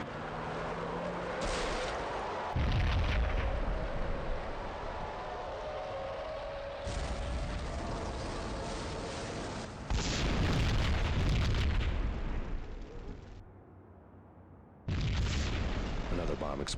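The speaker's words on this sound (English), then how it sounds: "Another bomb exploded inside the closest slum building." Bomb explosions in Max Payne, several loud deep booms spaced a few seconds apart, each with a rumbling tail, over game ambience and occasional voices.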